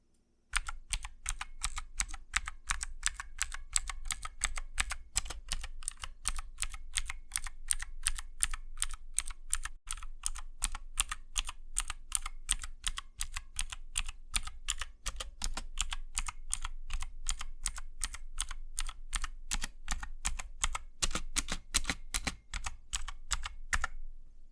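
Rapid, continuous clacking of keys on a MageGee MK-Mini 60% mechanical gaming keyboard, close and crisp, with fast irregular keystrokes running the whole time and only brief pauses.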